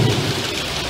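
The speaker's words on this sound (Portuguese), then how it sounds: "É a chuva." Steady rain pours down with rumbling thunder underneath, a dense continuous downpour with a heavy low roll early on, loud and close throughout.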